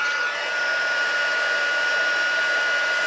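A heat tool blows a steady, loud whooshing hum over a stamped card, constant throughout with no pauses.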